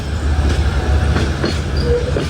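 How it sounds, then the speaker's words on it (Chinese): Vietnamese SE1 express train pulling out of Da Nang station after reversing direction, a steady low rumble of wagons rolling with faint wheel squeal and clatter, continuous and close. "12点48分 ，SE1次换向从岘港站出发。"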